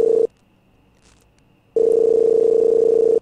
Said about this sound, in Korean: 신호가 가고 있지만 프론트와 연결되어 있는 건 아닌 것 같아